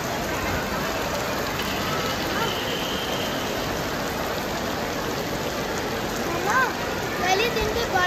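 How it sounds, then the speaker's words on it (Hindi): Steady rain falls in Pakistan, a continuous patter of drops on surfaces. A person talks over it, and the voice grows more prominent toward the end. "पहले दिन पे बारिश हो गई।"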